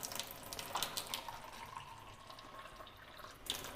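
Water runs from the tap of a Kangen SD501 water ionizer, a faint, steady trickling and splashing with light drips, heard alone without voices.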